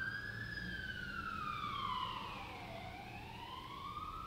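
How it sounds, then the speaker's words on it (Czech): An ambulance siren wails in long rising and falling sweeps as it passes on the street, steady and moderately loud over traffic rumble, with no talk. "Počkáme, až projde sanitka."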